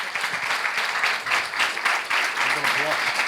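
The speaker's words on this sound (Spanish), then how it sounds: "pido un fuertísimo aplauso de bienvenida a esta persona" Loud, dense welcoming applause from an audience at a moderated talk session, sustained clapping with a voice briefly audible underneath toward the end.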